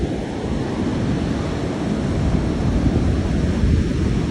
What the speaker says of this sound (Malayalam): കടലിൻ്റെ അവസ്ഥ നോക്കിക്കോ